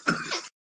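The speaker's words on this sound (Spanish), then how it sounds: "tiene una tos alérgica" A man gives a single short, rough allergic cough that merges into a throat clear, close and brief before silence.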